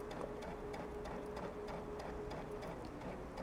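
A sewing machine stitches through a quilt made with pre-printed batting, running forward, backward and across with a steady, rapid mechanical whir and a faint regular ticking, close and continuous throughout.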